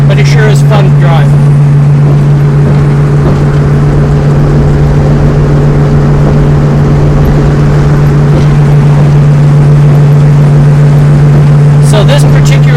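Steady engine drone from a 1964 Ford Falcon convertible while driving, a loud continuous low hum and road rumble throughout, with brief chirps and noises near the start and end.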